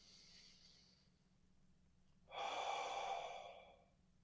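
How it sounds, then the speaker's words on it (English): A faint exhale drifts off, then after a quiet pause a person draws in one deep, audible breath through the nose lasting over a second, close and clear against a soft low hum. "Breathe in."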